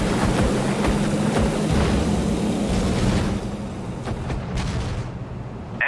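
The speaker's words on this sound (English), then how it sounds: "Flak barrage underway." Flak barrage explosions roar from the Sudden Strike 4 strategy game during a Pacific War naval battle at Leyte Gulf, with a dense, continuous rumble of overlapping blasts and booms that thins toward the end.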